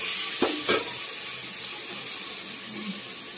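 Potato pieces for kurma fry in a pan with a constant hissing sizzle, broken early by two scraping stirs of a spoon, then a softer clink later, with no voices.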